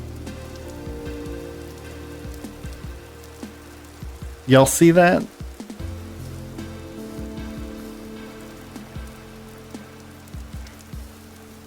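Steady rain patters across surfaces in the Vintage Story game world, a soft continuous hiss broken by a brief loud burst midway, with a player's voice speaking over it.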